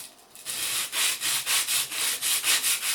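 A Mora Bushcraft Scandi-grind knife is drawn across 180 grit abrasive in steady repeated strokes, about two per second, each a loud close scraping rasp with no talking.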